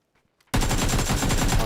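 An AK rifle fires in the battle royale game PUBG, a sudden loud burst of rapid automatic shots breaking in after near silence and rattling on steadily to the end.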